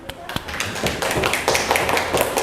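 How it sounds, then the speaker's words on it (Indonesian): A classroom of students applauds a student group after its presentation, with many hands clapping in a quick, uneven patter close by while voices are heard. "kita beri tepuk tangan"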